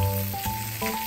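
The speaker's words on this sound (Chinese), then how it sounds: "接着将备好的鱼片放到锅中煎制，将它慢火煎至金黄色。" Fish slices pan-fry slowly to golden in oil left in a wok after aromatics, a continuous close crackling sizzle with faint tonal hum, no talk.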